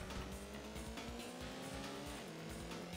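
Cars racing along a road in the PS1 motorcycle game Road Rash, with steady engine roar, shifting revving tones and tire squeal, loud and continuous with no talk.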